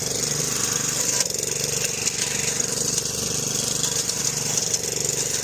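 A DR 26 Premier brush mower runs at a steady loud engine drone with a continuous rattling chatter, close and unbroken for the whole stretch.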